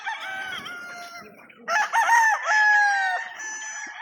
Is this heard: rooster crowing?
yes